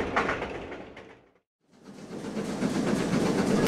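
A moving train is heard as a radio-drama sound effect: a rolling, rumbling carriage noise fades out into a brief silence, then builds back up louder and steadier.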